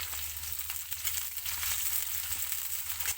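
Chopped capsicum and onions fry in a hot pan for Gobi Manchurian, giving a steady, close sizzle with faint stirring scrapes and no talk over it.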